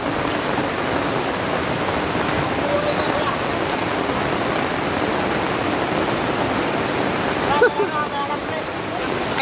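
Heavy, steady rush of a flooded river swollen by typhoon rains, a dense continuous roar close by with a brief voice near the end.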